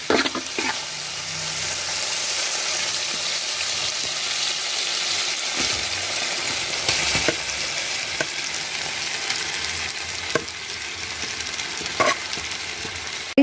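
Cooked rice stir-fries with cauliflower and soy sauce on a low flame for gobi fried rice, giving a continuous even sizzle close by, broken by occasional spatula scrapes and knocks against the pan.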